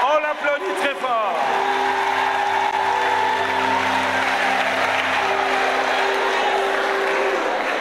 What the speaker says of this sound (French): On applaudit la sœur. On l'applaudit très fort.